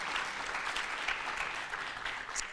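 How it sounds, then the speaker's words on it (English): An audience applauds the guests at the close of an alumni panel discussion on the migration crisis in Africa, a steady, fairly faint wash of many hands clapping that continues without a break. "Kindly, just applause, please, for our guests."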